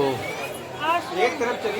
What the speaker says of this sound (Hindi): भीड़ काफ़ी ज़्यादा है